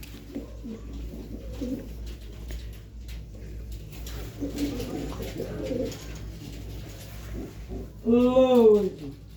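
Pigeons and a lapwing-type bird at a bird market coo softly in low, throaty bursts, with one louder close coo near the end; someone talks over them throughout.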